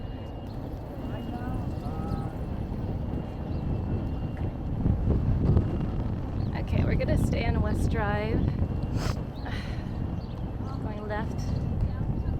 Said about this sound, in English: Check out that horse.